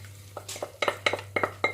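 Eggs go into a frying pan of melted butter where ham was cooked, with sharp repeated clinks and scrapes of a utensil against the pan in an irregular, fairly loud rhythm.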